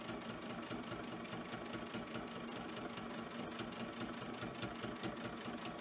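A sewing machine stitches a tight zigzag stem stitch, its needle hammering in a fast, even, continuous rhythm with a low motor hum, close but fairly quiet, no talking over it.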